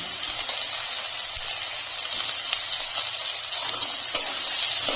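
Grated carrot and chopped beans hiss and sizzle steadily in a hot pan as they are stirred, a continuous close frying noise with faint scraping.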